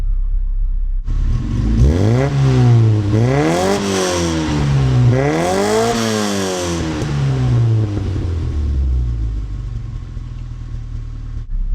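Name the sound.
Austin Mini engine with Sunbeam carburettor idling and revving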